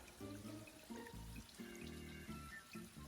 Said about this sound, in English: I'm passing lots of these small streams this morning.